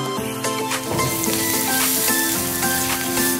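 Onions and salt frying in a pan give a steady, busy sizzle with faint crackles and a few soft stirring knocks, close and alone without any talk.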